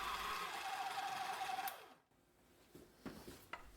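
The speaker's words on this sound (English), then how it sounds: "These mixers were extremely loud even when they were new" A vintage Kenwood Chef stand mixer kneads bread dough with its dough hook, giving a loud, steady motor whir that cuts off after under two seconds, followed by faint clunks and rattles.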